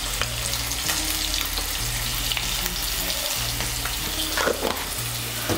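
Potatoes frying in a pan with a pinch of salt and turmeric, a steady close sizzle with occasional stirring scrapes, no talking.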